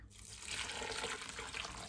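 Stock poured into a pot of lentil curry soup with paprika and fenugreek, a steady liquid splash and gurgle running close and fairly loud for under two seconds with no talking.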